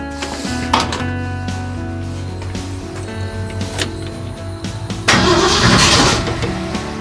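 An old car engine with a Holley carburetor cranks and turns over with a metallic rattling, rough and uneven, then surges louder as it catches, recorded up close.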